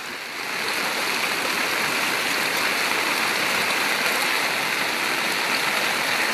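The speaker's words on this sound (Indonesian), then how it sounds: "Karena memang posisi sangat deras arus saat ini." Strong floodwater current rushes steadily during a flood that has submerged hundreds of homes in Moilong, Luwuk, making a dense, continuous roar with no breaks or voices.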